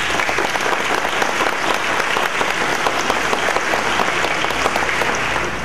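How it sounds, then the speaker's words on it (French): At a 2012–2016 graduation ceremony at Eagle International College, an audience applauds the parents, a dense, loud, sustained clapping that carries evenly through the whole stretch with no voices on top. "je demande un applaudissement sérieux pour les parents"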